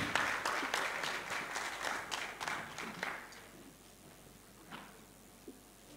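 Scattered audience applause rises at a live-streamed gathering in Nigeria as a guest is welcomed. Faint, distant clapping with distinct individual claps thins out after about three seconds, leaving only a few stray claps.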